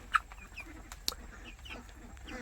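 Hens on a poultry farm cluck softly and continuously nearby, with a couple of sharper, louder squawks standing out above the low murmur of the flock.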